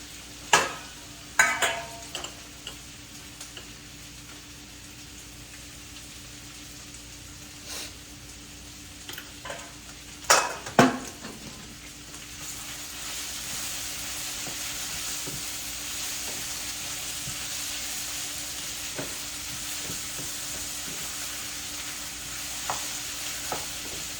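Ivy gourd with a little salt cooking in a pan on a stove, a steady soft sizzle and bubbling that swells in the second half, with a few scattered knocks and stirring clatters early on.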